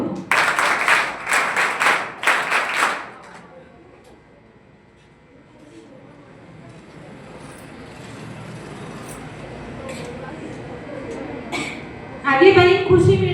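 Audience applause for a student at a 12th-grade board exam merit ceremony: a burst of clapping for about three seconds, then a long quieter stretch of room murmur, with a short louder patch near the end.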